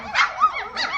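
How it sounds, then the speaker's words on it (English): Three-week-old Griffon puppies bark and yip at each other in short, high bursts, several quick yelps close by with brief gaps between them. "Her and Purple like to bark at each other"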